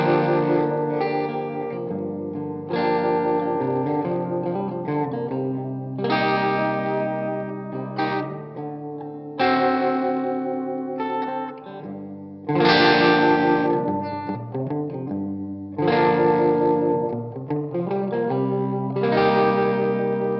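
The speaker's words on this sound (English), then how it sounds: "I'm going to throw this flint in there and get some stereo reverb and tremolo" Guitar played through a Harley Benton Thunder 99 stereo power amp and a Flint pedal adding stereo reverb and tremolo: ringing chords strummed in bursts every couple of seconds, each swelling and pulsing with a lush wash that trails between phrases.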